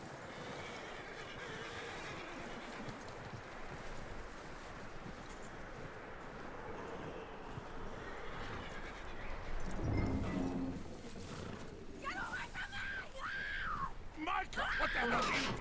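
Horse hooves and whinnies in Red Dead Redemption 2: a steady wash of ambience and soft clopping, then a distinct whinny late on, with people talking over it.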